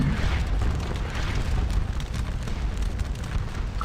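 Artillery fire in the Napoleonic battle game Scourge of War Waterloo, a steady low rumbling roar of distant cannon and battle noise running continuously, with a sharper report near the end.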